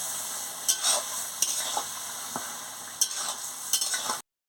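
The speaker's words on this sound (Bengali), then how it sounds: "দিয়ে ভালো করে নাড়াচাড়া করে নিচ্ছি।" A spatula stirs fried murola fish with ivy gourd leaves in a hot pan, scraping now and then over a constant close sizzle of oil, with no voices.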